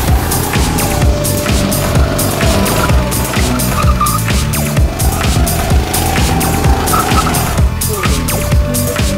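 Go-kart driving through a cone course, a loud buzzing small engine revving up and down close by, with steady rhythmic clatter and brief tire scrubs through the turns.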